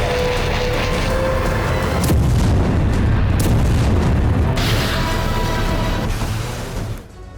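Russian missiles explode in Ukraine with heavy, rumbling booms, the roar swelling and rolling continuously at high volume before fading near the end.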